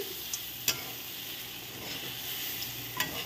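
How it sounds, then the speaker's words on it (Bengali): Roasted peanuts are stirred into a taro curry frying in a pan, with a soft continuous sizzle, scraping spoon strokes and a few sharp clinks against the pan, close up with no talking. "দিয়ে এবার আমি ফাইনালি নাড়ানাড়ি করছি।"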